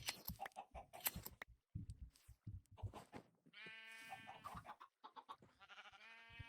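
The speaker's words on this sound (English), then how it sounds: "I don't know why I'm breeding up so much chickens." Chickens clucking and squawking in a video game, a busy mix of close animal calls with some bleat-like sounds, short overlapping bursts and no talking.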